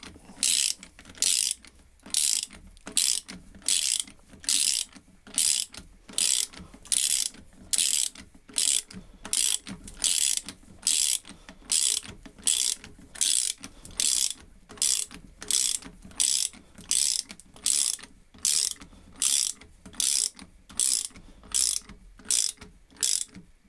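A ratchet mechanism on a guillotine under restoration clicks in steady, evenly spaced bursts, about one every second, close up and clear, with no talking.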